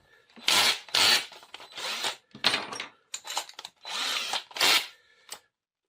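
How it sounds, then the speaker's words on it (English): A power drill fitted with a 10 mm bit bores countersinks in wood for a sofa bed built from two armchairs, in several short, close, rasping bursts with brief pauses between them. "For this, we take a 10 mm drill in order to ensure proper functionality."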